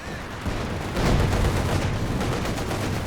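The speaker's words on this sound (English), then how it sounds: "Oh boy, that's a huge Zis barrage." Soviet ZiS artillery barrage in the video game Company of Heroes 2, a loud, dense rumble of overlapping booms and gunfire that swells after half a second and keeps pounding.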